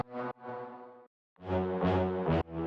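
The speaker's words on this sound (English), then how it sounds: "and then we have the brass hits" Punchy brass hits from the VEDM2 Brass sample pack sound in two short blasts separated by a brief gap, bright and fairly quiet, with no voices.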